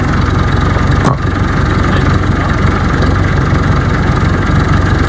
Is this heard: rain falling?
no